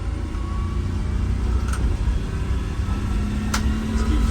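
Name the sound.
bus driving up a hill on a test drive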